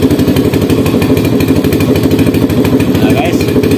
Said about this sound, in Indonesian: motor bisa hidup kembali